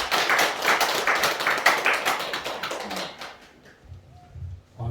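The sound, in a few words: audience clapping for the lecturer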